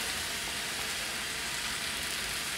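Sliced jamón frying in a pan gives a steady, even sizzle with a faint crackle, close and continuous, and a small clack right at the end.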